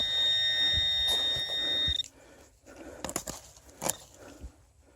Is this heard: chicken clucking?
no